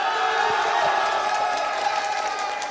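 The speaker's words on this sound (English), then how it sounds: "our wonderful coverage team who are obviously applauding this amazing final" A large audience at the Yu-Gi-Oh YCS Dortmund 2023 final cheers, whoops and applauds a new champion, a dense continuous roar of crowd noise without pause.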